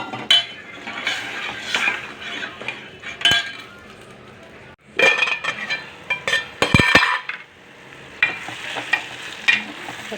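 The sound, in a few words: pouring tamarind extract into tempering in a pot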